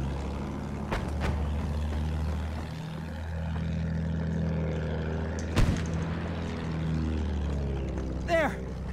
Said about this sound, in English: There! Enemy plane!